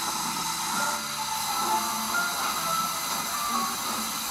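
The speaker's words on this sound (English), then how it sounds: "Steam engines." Steam locomotive at a station letting off a steady, loud hiss of steam over a low rumbling idle, continuous and close with no talking.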